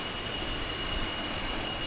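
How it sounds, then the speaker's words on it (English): An F-104 Starfighter jet taxis on the runway at Bodø air base, giving off a steady, loud, high-pitched turbine whine over a continuous broadband roar, with no voices. "He taxis in towards the ready-made squadron area long after the formal ceremonies are over."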